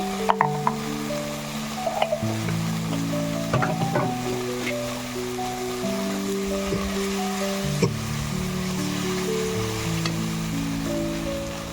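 Spice masala with turmeric and a little sugar is stirred and sautéed in oil for a spicy bhela fish curry, a steady sizzle broken by scraping and clinking stirs, with background music running throughout.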